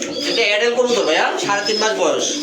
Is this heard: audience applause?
no